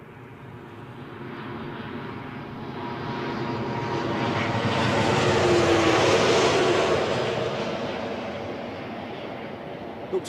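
A Ryanair airliner comes in to land at Newcastle airport, its engine roar swelling gradually from a distance to a loud broadband rush overhead and then easing slightly as it passes.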